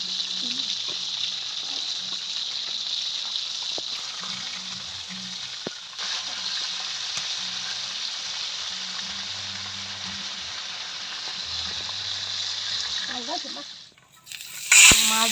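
Continuous sizzling of hilsa fish frying in oil on a clay stove, close and steady, with a voice talking quietly underneath and a clatter near the end.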